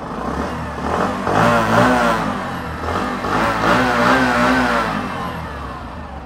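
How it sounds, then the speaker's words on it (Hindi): A Bajaj Platina 100 single-cylinder motorcycle engine, running from cold in ideal condition, gets two rising throttle blips that settle back toward idle. The exhaust note is close, even and moderately loud, with no talking. "थोड़ा सा थ्रॉटल देता हूँ,"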